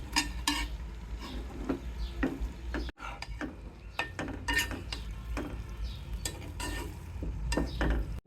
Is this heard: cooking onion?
yes